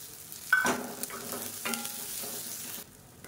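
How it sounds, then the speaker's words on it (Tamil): Grated coconut and a small piece of tamarind sauté in a pan, with a soft sizzle and a few scraping stirs of a spatula, fairly quiet and close, no voices. "இப்போ பாருங்கள், தேங்காய் சேர்த்து நல்லா வதக்கியாச்சு"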